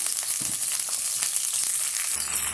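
Onion, crushed garlic and curry leaves sauté over a high flame for a village-style bitter gourd kuzhambu, a steady close sizzle with occasional soft stirring and crushing sounds.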